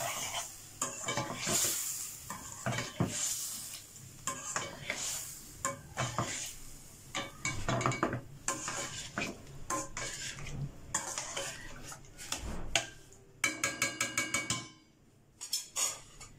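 Chicken jalfrezi sizzles and fries in a pan while a utensil stirs it, with repeated scraping and clanking strokes against the metal over a constant crackle and a few sharp knocks near the end.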